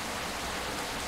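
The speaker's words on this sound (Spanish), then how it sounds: "Pues ya está lloviendo otra vez." Steady rain pours down in the bus-driving game BUSSID, a dense, even hiss filling the scene from start to finish with no voices over it.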